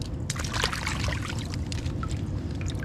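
Crab rinsed under running water, a continuous close splashing pour with irregular spatters throughout, no speech.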